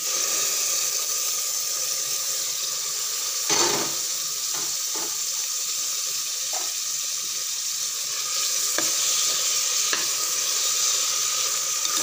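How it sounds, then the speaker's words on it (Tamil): Continuous sizzling and frying of chopped tomatoes in a pan with intermittent clatters of stirring, moist and steady throughout. "தக்காளி நல்லா குழைய வதங்குற வரைக்கும் நல்லா வதக்கி விடுங்க"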